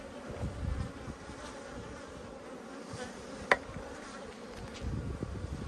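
Honeybees swarm and buzz around an opened beehive during an inspection, making a steady, close droning hum with faint clicks and one sharp knock partway through.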